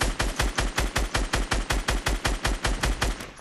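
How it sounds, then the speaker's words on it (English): Rapid automatic gunfire in a video game, with a steady, loud, unbroken stream of evenly spaced shots that ends abruptly. "Oh, there's lots of shooting over here."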